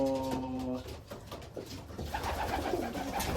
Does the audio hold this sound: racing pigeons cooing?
yes